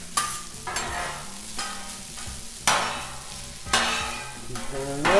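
Ham and vegetables fry on a Blackstone griddle with a steady sizzle, broken by several sharp scrapes and clatters of a spatula stirring the food. Close and fairly loud, with no voices.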